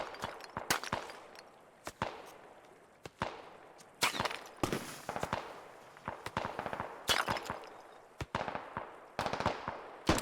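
Gunfire in the military shooter Squad: repeated sharp, loud rifle cracks in irregular bursts and single shots, with rolling echo between them, no voices.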